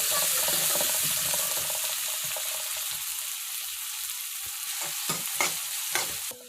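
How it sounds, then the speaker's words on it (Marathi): Tomato frying in hot oil gives a constant bright sizzle, then a spoon scrapes and knocks against the pan in a few distinct strokes near the end, close by with no talking. "आता तेलात टोमॅटो टाका आणि तोही व्यवस्थित मिक्स करून घ्या"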